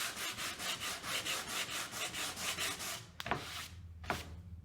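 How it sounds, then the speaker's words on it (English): Wood is hand-sanded for a rustic weathered lake porch sign, with steady rhythmic back-and-forth scratching strokes close by, then a pause with a couple of brief scrapes and taps. "Sanding is your cardio."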